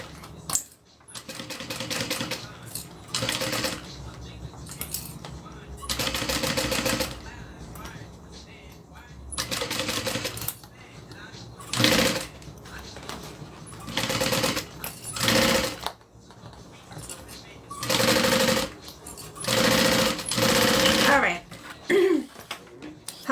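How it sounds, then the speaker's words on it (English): A sewing machine stitches around the perimeter of a backpack pocket in repeated loud runs of rapid mechanical chatter separated by pauses, with people talking during the gaps. "Now we're going to sew our pocket together on the perimeter."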